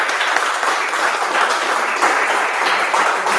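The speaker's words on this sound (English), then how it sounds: "Round of applause." A live-session audience claps in a steady, dense round of applause that holds evenly for a few seconds with no talk over it.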